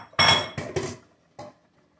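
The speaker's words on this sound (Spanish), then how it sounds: "Le echo las papitas." Potatoes tipped into a cooking pan for pork loin bites, giving a few clattering metallic hits in quick succession, then one softer knock, close and alone.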